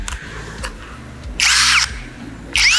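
A XENON CDID1845 18V cordless impact drill runs in two loud, close bursts of high whining motor, separated by quieter handling noise.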